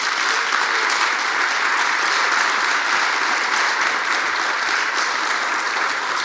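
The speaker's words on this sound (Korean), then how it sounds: "격려의 박수를 부탁드리겠습니다" A congregation applauds a professor at a closing worship service, an even, continuous roll of clapping from many hands at steady volume throughout, with no voices over it.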